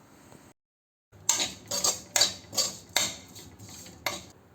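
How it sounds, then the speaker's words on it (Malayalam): A spoon scrapes and clatters against a pan as cumin, turmeric, garam masala and pepper powders are stirred, making about seven or eight distinct metallic strokes at an uneven rhythm after a short silence. "പൊടികളുടെ പച്ചമണം മാറുന്നത് വരെ നമുക്കിത് നല്ലവണ്ണം ഒന്ന് ഇളക്കി കൊടുക്കാം."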